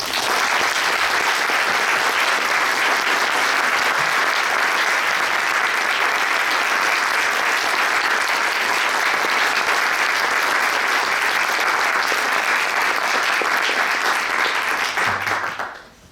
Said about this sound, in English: Please join me in a round of applause for Dr. Kase.